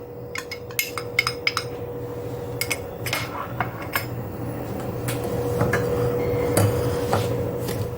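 Dessert ingredients with starch stirred in a pot, with irregular metallic clinks and scrapes of a utensil against the pot, close and moderately loud, alone without voices.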